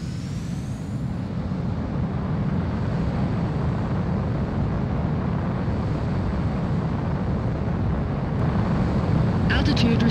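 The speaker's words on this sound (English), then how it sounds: "Mobius One, you are cleared for takeoff." Fighter jet taking off in Ace Combat 04, a steady, loud broadband engine roar that holds constant throughout, with a faint higher whine and a brief clatter near the end.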